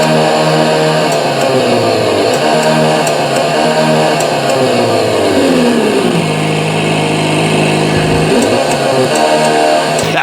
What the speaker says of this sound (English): You can even hear the sound of the gear shifter as he's going through the gears.